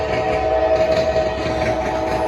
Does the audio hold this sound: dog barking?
no